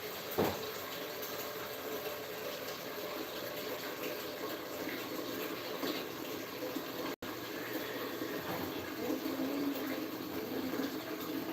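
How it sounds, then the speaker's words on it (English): A tap runs steadily while water is fetched during an evening routine, a continuous broadband splashing rush that stays fairly even and close for the whole stretch, with no talking. "let me fetch some water"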